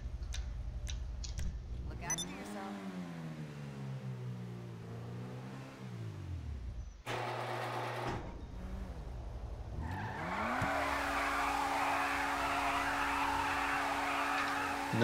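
A Grotti Turismo Classic sports car in GTA V Online revs its engine hard, climbing and dropping in pitch. A brief cut leads to a rising roar as it pulls away and holds a steady high drone with road noise.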